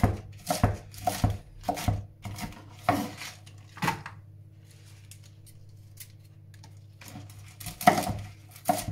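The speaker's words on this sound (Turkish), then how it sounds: "ıspanaklarımızı doğrama ile başlıyoruz" A kitchen knife chops fresh spinach on a cutting board. The chops come in quick bursts of sharp, close thuds, with a pause in the middle and a steady low hum underneath.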